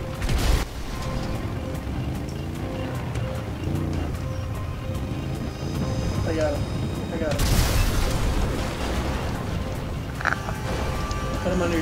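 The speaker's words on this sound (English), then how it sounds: "Shit, everything is exploding." Explosions boom again and again in a GTA V bumper-car match with monster trucks, loud heavy bursts rumbling under excited overlapping voices of players talking the whole time.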